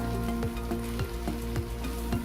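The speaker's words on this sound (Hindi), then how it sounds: "चिकन हमारी प्याज और टमाटर के साथ फ्राई हो रही है।" Half a kilo of chicken fries with onions and tomatoes for a chicken vegetable pulao, a loud close sizzle broken by regular scraping strokes of a spoon against the pan, with no voices.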